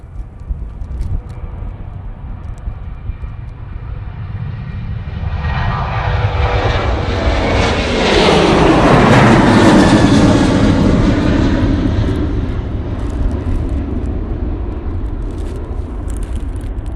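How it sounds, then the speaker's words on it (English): A Ryanair airliner taking off from Manchester Airport, its jet roar building from a distant rumble to a loud, broad peak near the middle before slowly fading as it climbs away. "Ryanair. Off to Brussels."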